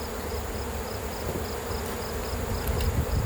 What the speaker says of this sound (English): Cleansing flight on this hive